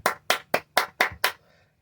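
Six sharp, evenly spaced hand claps from one person, close and crisp, then silence.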